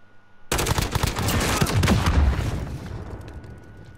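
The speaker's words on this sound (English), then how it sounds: "this kid just using an RPG" A sudden loud burst of RPG fire and explosions in an online shooter video game, kicking in abruptly and booming for a few seconds before tailing off, with no voices.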